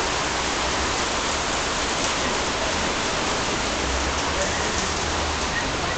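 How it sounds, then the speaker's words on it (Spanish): Steady heavy rain drumming on plastic and zinc roofs of a house in San Pedro, Costa Rica, a dense continuous hiss at constant loudness throughout, close by. "Está lloviendo hoy."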